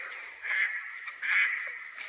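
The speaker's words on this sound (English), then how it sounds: "There's a loud duck over there, he's on the right old rant." Ducks quack in loud, repeated bursts at a lake in early spring, several harsh calls close by with short gaps between them and no talking.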